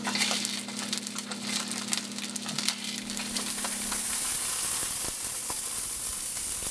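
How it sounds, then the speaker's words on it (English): Sausages browning in a hot pan give a steady, bright sizzle and crackle that carries on close and even throughout. "So you want to brown the sausages on all sides."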